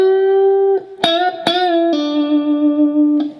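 Distorted electric guitar plays the closing lick of the first solo of a song, loud and alone, with sustained bent notes, a sharp attack near one second, another after, then a long held note and a final pick.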